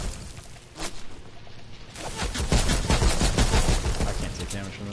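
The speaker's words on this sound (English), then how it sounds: "I'm getting shot at from somewhere else now" Rapid bursts of automatic gunfire from the video game Fortnite crackle loudly through the second half, a dense fusillade of close shots after a few scattered earlier pops.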